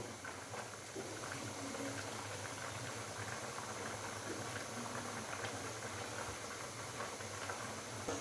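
Tomatoes cooking down over a high flame in a karahi, a steady bubbling sizzle and hiss that runs continuously and fairly loud, with no talking.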